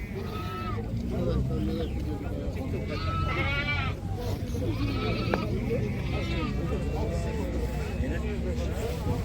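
Lambs bleating among a livestock market crowd, several short bleats rising over steady murmur of people talking nearby, with continuous busy market background throughout.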